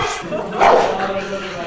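A police dog barks during a tracking demonstration, giving one strong close bark with yelping, mixed in with people talking.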